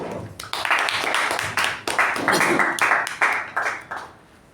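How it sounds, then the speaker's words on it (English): Toastmasters meeting audience clapping for the general evaluator: a close, dense run of handclaps in uneven bursts that swells, holds for several seconds and then fades out, with no talking over it. "With a huge round of applause, please give it up for our general evaluator, Toastmaster Raj."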